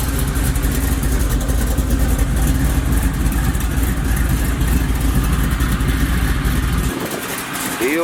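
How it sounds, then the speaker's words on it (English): A supercharged Oldsmobile Cutlass idles through its new muffler, a steady low rumble that stays smooth and fairly quiet, continuous for about seven seconds before it thins out slightly at the end. "I like the muffler now. Listen at it. Quiet up here in the front. Running smooth."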